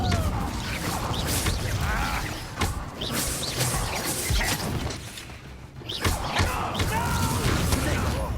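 Fire spell cast in the video game Hogwarts Legacy, a loud burst of combat effects with whooshing and crashing impacts filling the scene, with a brief dip before another loud surge.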